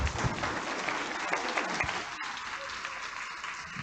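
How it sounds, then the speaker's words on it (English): A lunchtime history lecture audience claps for the speaker, a steady wash of applause from a roomful of people continuing throughout. "but let's give Jerry a round of applause"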